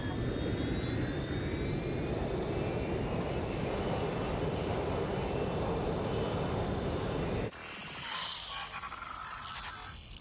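Airplane engine in the video game Watch Dogs Legion, a loud steady jet roar with a rising whine that holds for about seven seconds, then cuts abruptly to a quieter, different engine tone.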